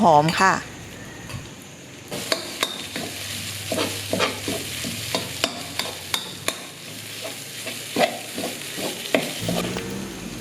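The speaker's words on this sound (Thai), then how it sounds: "แล้วก็นำเครื่องแกงที่เราโขลกรวมกับกะปินะคะ ลงมาผัดพอ" Pounded Thai curry paste and shrimp paste stir-fried in vegetable oil over low heat: a spatula scrapes the pan in repeated irregular strokes over a soft sizzle, after a brief voice at the start.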